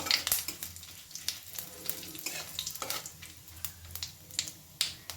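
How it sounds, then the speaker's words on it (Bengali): Whole spices, cinnamon stick, cloves, cardamom and cumin seeds, sizzle in hot oil as they are stirred, with a soft crackling fry punctuated by sharp pops and light clicks of a utensil, close and fairly quiet. "ফোড়নটাকে একটু নেড়ে নিচ্ছি"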